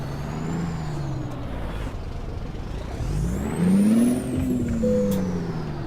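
A heavy truck engine in American Truck Simulator drones and whines, pitch rising and falling as it revs, with an air-brake hiss and mechanical whir; no talking.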